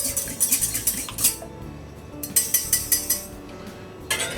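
A raw egg is beaten in a bowl for a cabbage-roll filling, with quick metal clinks of a utensil against the dish coming in short rhythmic bursts and a brief pause between them.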